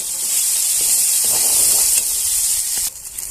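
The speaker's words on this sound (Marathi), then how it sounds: "दोन चमचे असं मी तेल घालून घेतलेलं आहे मसाला घालून घ्यायचा याच्यामध्ये मसाला छान असा परतून घ्यायचा" Masala spices sauté in two spoons of hot oil for a Marathi moth-bean dal, giving a bright, steady close-up sizzle and hiss that drops off sharply near the end, with no talking.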